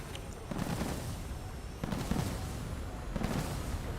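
Missile hits and explosions in the War Thunder tank game, three dull booming blasts spaced about a second and a half apart over a steady, noisy battle roar.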